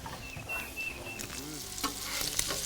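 Bacon fries on a Blackstone griddle at a campground, giving a steady crackling sizzle with scattered pops and brief scraping sounds, close and moderately loud, with no talk.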